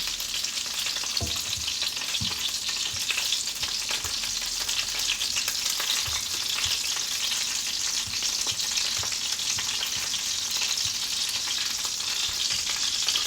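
Very thick sausages frying in a pan, a loud, continuous hissing sizzle with scattered pops and crackles throughout, close and steady with no talk.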